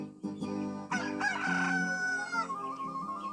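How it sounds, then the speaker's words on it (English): A big red rooster crows loudly from a rooftop, a strained, drawn-out cock-a-doodle-doo heard close and alone, ending in a long wavering note. "Mrs. Mulligan's big red rooster cock-a-doodle from the roof."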